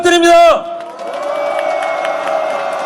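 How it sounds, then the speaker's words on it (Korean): A large street rally crowd breaks into sustained applause and cheering after an amplified voice, with clapping and scattered shouts filling the open-air protest space for a few seconds. "다시 한번 뜨거운 연대 박수 부탁드립니다."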